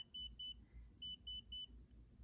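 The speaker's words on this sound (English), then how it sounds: "do y'all hear me beeping? That's my pod." A small pod device beeps in two quick pairs of high, thin electronic tones, a soft lower chirp between them, over a low rumble; no one speaks.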